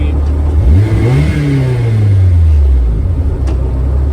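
A VVL-powered Mazda 323 engine revs up loudly close by, its pitch climbing then easing back down in one sustained sweep, a deep rumble underneath.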